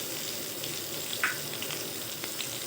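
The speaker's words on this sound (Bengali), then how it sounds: "আলুটা একটু হালকা করে ভেজে নেবো" Halved potatoes fry lightly in oil in a pan, a steady, even sizzle and hiss with a few small pops and crackles, close and moderately quiet with no voices over it.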